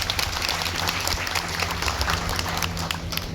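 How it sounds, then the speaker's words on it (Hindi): An audience at a devotional gathering gives loud, sustained applause for a performance, a thick continuous roar of clapping hands throughout, with a low hum underneath. "एक बार जोरदार तालियां बजा दीजिए"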